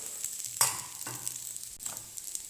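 Dhuska roti, a thick Chhattisgarhi rice bread, cooks on a low flame with a faint, steady sizzle and a few soft scraping touches of a spatula, quiet and close, without voices.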